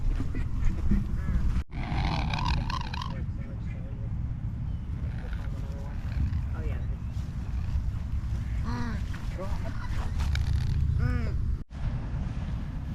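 Aggressive geese or ducks chasing people outdoors, giving repeated loud honks and squawks in scattered bursts over constant rushing background noise, while people talk and laugh throughout.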